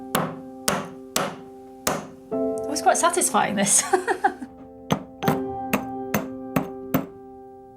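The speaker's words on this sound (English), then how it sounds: "Hammer it until it gets smaller and smaller." A hammer strikes a lump of rare pigment rock in sharp, ringing blows, a steady series of separate hits close by, broken midway by a voice and then resuming at a regular pace.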